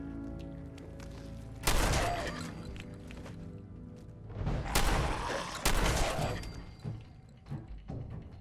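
Shotgun blasts against ghouls inside a church in Fallout 4: three heavy, booming reports spaced a few seconds apart, each with a rumbling tail, over a low game background.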